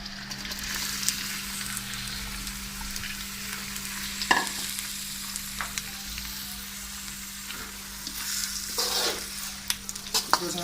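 Onions fry in a karahi as the base for Peshawari mutton namkeen, a steady close sizzle broken by several loud scrapes and knocks of a spoon stirring the pan.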